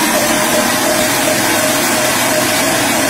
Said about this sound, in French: Et je remets mon bol et on va faire 2 turbos pour bien mixer l'ensemble